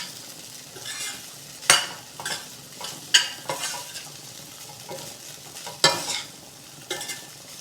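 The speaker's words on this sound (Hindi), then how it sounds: "हल्के हल्के हाथों से इसको मिलाते जाएंगे।" Poha being gently stirred in a pan with peanuts, over a soft sizzle, with repeated bright scrapes and clinks of the spoon against the pan at uneven intervals, close and moderately loud, no talking.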